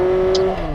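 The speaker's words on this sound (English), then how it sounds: "it's quite a raucous engine" A big sport motorcycle's raucous engine drones with a steady, loud, gravelly hum over a brief moment, without any voices.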